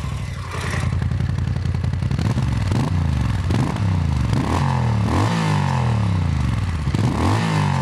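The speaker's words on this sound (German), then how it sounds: "Ich würde euch gerne mal zeigen, wie dieses Motorrad sich schüttelt und wie es sich anhört" Moto Guzzi MGX 21 V-twin motorcycle engine running close and loud, with repeated throttle blips rising and falling in pitch over a steady lumpy idle, no talking.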